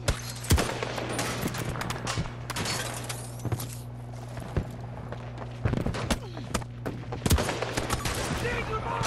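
Gunfire in Battlefield 2042: rapid bursts of shots crackling over a steady low engine hum, with irregular sharp reports and clatter throughout, fairly busy and mid-distance.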